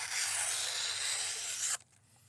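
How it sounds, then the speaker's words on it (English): A Cold Steel knife push-cuts through a sheet of paper, making a close, steady rasping tear that lasts under two seconds and then stops abruptly into near silence. "we'll do the push cut on paper"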